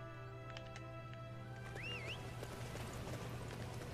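In the video game Dynasty Warriors 9, a horse gives a short rising whinny over steady hooves and game ambience, faint and in the background without speech.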